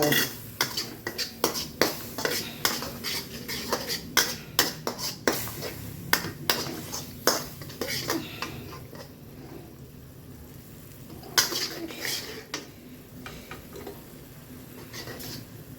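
Snakehead fish stir-fried with holy basil in a pan, with repeated sharp metallic clinks and scrapes of a utensil against the pan coming in a quick irregular run, then thinning to a few scattered taps over a low background.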